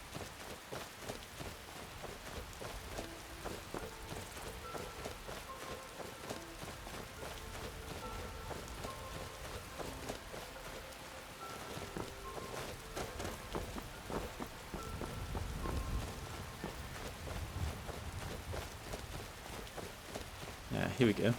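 Steady rain patters across the ground in Skyrim while footsteps crunch along a trail, with someone speaking over it at times and the downpour growing heavier near the end.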